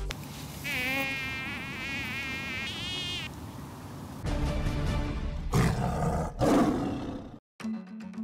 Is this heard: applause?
no